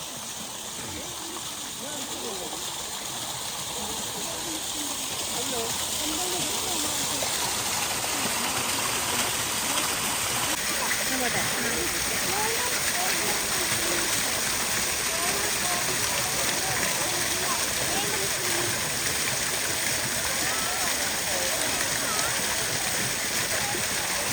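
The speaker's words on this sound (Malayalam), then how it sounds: "ഇതാണ് വെള്ളച്ചാട്ടം" A small waterfall at the Nilambur Teak Museum grounds rushes in a steady, dense roar that builds slightly in the first seconds and then holds constant, close and continuous.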